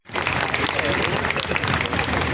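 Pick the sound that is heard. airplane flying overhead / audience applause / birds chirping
audience applause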